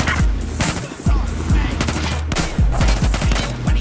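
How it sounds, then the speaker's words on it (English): Rapid machine-gun fire with bursts of repeated shots rattles loudly and nearby throughout a Battlefield 4 match. "we're getting fucking shot at"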